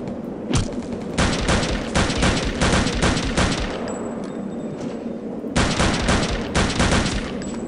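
Rapid automatic gunfire in Return to Castle Wolfenstein, loud close bursts of shots with a short pause midway before firing resumes, no talking.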